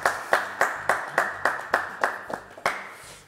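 An audience claps at a live show, the claps falling in a steady, rhythmic beat roughly three times a second and sounding close and fairly crisp.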